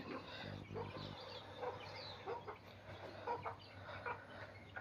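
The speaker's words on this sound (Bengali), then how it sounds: "এই তো মুরগিগুলো এখন খাবে।" Chickens cluck softly and intermittently close by as they feed, with a low hum and scattered small noises around them, fairly quiet overall.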